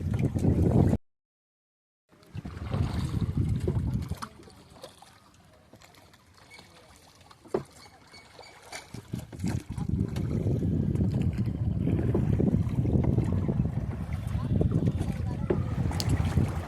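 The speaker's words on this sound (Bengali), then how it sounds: "খুবই কষ্ট হয় এই দাঁড় বাড়িতে। মোটর সিস্টেম হলে খুবই ভালো হতো, কিন্তু এতে কোনো মোটর নাই।" Wooden oars work a rowboat on the Ganges, with splashing and dipping water under wind noise around the boat, and voices talking over parts of it.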